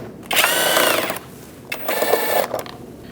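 A power driver spins out T15 Torx bolts from the inner fender liner of a 2016-2019 Chevrolet Cruze, giving two close, loud bursts of motor whine, each lasting about a second, with a short pause between them.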